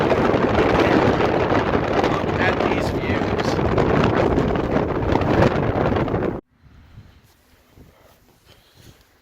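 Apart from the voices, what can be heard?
strong wind on a mountain summit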